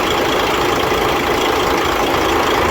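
A diesel truck engine idling just after a hard start, with diesel fuel leaking onto the motor, heard as a loud, steady, close-up broadband rumble with no talk.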